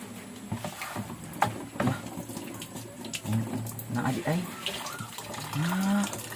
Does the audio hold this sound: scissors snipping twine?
no